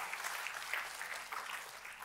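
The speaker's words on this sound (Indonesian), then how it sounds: "Tepuk tangannya boleh paling meriah buat Tuhan kita." A church congregation applauds in worship, a faint, distant wash of clapping that holds evenly for a couple of seconds.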